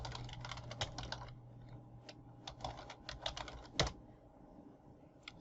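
Someone types a web address into a browser on a computer keyboard, with quick clusters of quiet key clicks, short pauses and one sharper keystroke near the end. No one speaks.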